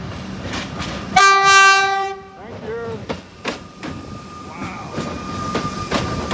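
A loud, close train horn blasts once for about a second, followed by rolling rail noise and faint voices.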